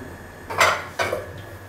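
A utensil stirs food in a pot in a home kitchen, producing two short scraping, clattering passes against the metal, close and fairly quiet with no talk.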